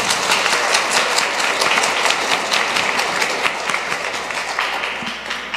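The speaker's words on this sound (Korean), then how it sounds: "박수로 맞이해 주세요." An audience at a mini concert in a Catholic church applauds warmly for several seconds, a dense, even patter of many hands clapping nearby.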